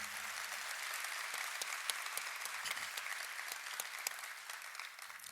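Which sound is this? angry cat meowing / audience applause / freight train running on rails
audience applause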